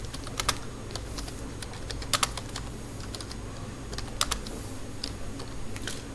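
Computer keyboard typed on in a quick run of key clicks, with short bursts and pauses, close and fairly quiet against a low steady background hum.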